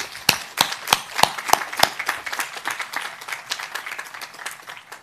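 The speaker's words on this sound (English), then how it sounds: "Give them a round of applause as well." Applause from a university commencement audience, rapid scattered hand claps at moderate volume, with some sharper individual claps standing out near the start.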